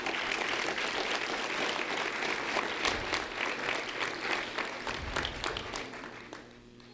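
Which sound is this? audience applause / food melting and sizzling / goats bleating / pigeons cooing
audience applause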